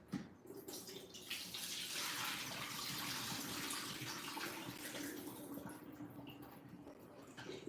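Rinsed food being drained in a kitchen salad spinner, heard as a steady rushing, splashing flow of water that swells and holds for several seconds, fairly close, with no speech.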